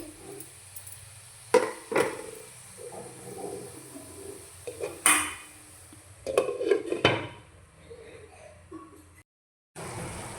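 Curry of drumstick pods and eggs stirred in a pot, with clanking metal spoon scrapes and knocks in irregular bursts, then a lid set down with a clatter, close and fairly loud.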